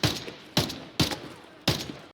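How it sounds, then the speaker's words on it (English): Four sharp, booming gunshots from a tactical shooter video game, spaced about half a second apart, each with a short echoing tail, loud and close with no talk. "Jay just got sniped from the top of a hill about 200 meters away"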